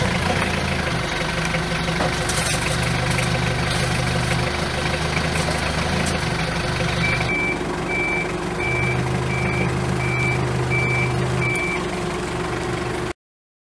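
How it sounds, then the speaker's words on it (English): A forklift idles steadily while lifting a salt spreader, then backs away with a regular series of reversing beeps repeating over the continuous engine rumble, loud and close with no talking. "We'll take a forklift, come underneath, lift it up."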